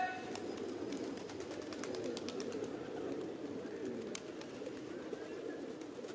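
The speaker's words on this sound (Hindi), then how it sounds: "पिजन। पिजन मीन्स कबूतर।" A pigeon coos in soft, low repeated phrases, steady and fairly faint at a moderate distance, with light clicks and background noise around it.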